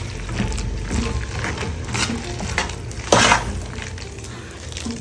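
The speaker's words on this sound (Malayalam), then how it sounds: "നന്നായിട്ടൊന്ന് ഇളക്കി കൊടുക്കാവേ" Cassava being stirred together with ground coconut paste in a pot, a steady scraping and clatter of spoon against metal with a louder scrape near the end, no voices.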